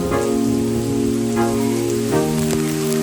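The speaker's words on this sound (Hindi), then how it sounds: "तेज़ बारिश होने लगी।" Heavy rain pours down in a dense, unbroken hiss that stays loud and even throughout, with a faint steady tonal hum running beneath it.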